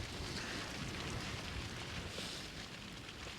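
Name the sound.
driving rain and wind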